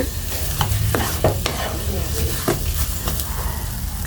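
A spoon scrapes and stirs a thick rasmalai mixture of bread, carrot and milk powder in a pan, giving repeated close scraping strokes over a low steady sizzle.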